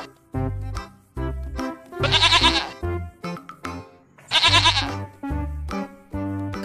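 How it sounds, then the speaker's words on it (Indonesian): A white baby goat bleats close by, its cries coming in two long, strained calls among shorter bursts of lower animal noise and thumps around a farm truck. "Wah, ada anak kambing putih, teman-teman."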